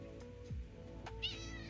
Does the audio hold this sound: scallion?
no